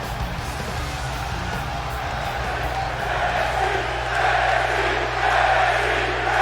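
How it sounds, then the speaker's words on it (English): Arena crowd at an NXT wrestling event cheers and roars in a steady wash of noise, swelling louder toward the end, with a low hum underneath. "The crowd excited for Brandon Collins here at NXT"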